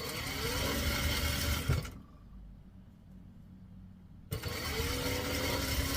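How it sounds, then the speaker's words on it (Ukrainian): A domestic sewing machine stitches along the very edge of a fabric piece, its motor whirring close by, then stopping for about two seconds before running again. "Ми отак от по самому, по самому краю тут строчимо, як ви бачите."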